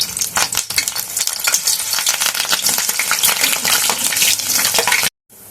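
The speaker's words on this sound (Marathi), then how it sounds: "याला मधून काप केलेले आहे ते पण आपण लांबूनच तळणार आहोत" Slit green chillies frying in hot oil for Mumbai-style vada pav give a loud, steady, close crackling sizzle with dense spitting pops that cuts off abruptly near the end.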